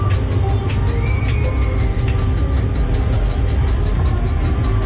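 A ghost train ride at Nottingham Goose Fair, with loud, steady rumbling and rattling of the ride car running continuously, sharp clanks recurring at regular points and a bright whining tone over the dense fairground din.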